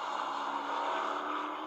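Race cars in the 1995 24 Hours of Le Mans roar by at a distance, a steady blended engine drone, fairly faint with a broad high whine.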